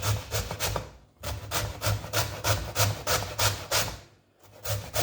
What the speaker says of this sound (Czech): Takže pořád ještě strouhám a pořád ještě otáčím.